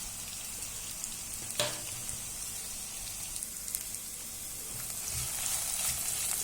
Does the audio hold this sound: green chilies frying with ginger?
yes